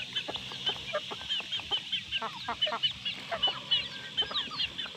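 White chickens cluck in a flock, a dense run of short, close clucks and chatter that carries through the whole stretch with no talk over it.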